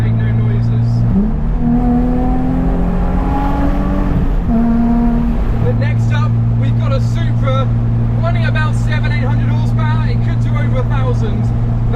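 A modified car revs loudly as it drives past at a gathering of modified cars in the UK, a close, heavy engine drone rising and falling through the gears, with people talking nearby under it.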